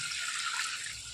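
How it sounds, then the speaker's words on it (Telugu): Water is poured steadily onto washed dal in a pot for cooking, a continuous close hiss and splash lasting about a second, heard alone. "ఇప్పుడు నీళ్ళు పోసుకున్నాం."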